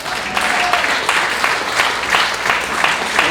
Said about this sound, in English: Give Tony a big, big round of applause.